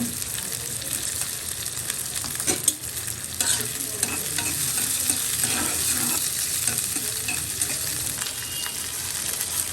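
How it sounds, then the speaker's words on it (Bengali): Onion, chilli and garlic fry in a pan for a mashed dried-fish dish, giving a steady close sizzle with scraping and stirring sounds and a few sharper knocks throughout. "পেঁয়াজ মরিচ রসুন ভেজে নেওয়া হচ্ছে"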